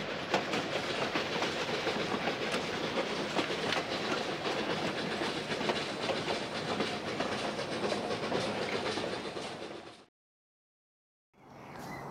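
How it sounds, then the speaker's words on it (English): A train rumbles and rattles loudly and steadily for about ten seconds, then the noise cuts out completely before faintly resuming. "Told you this train stopped here."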